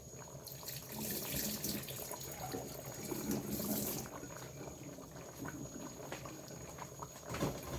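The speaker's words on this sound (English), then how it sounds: "I'm just gonna drain this water." Water is poured off a pot of stewed meat into a sink, a steady splashing rush that swells and eases over several seconds, close and alone without talk.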